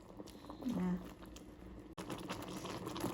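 Vegetables blanching in a pot of boiling water give a low bubbling, watery churn, with faint clatter and brief handling noises on top.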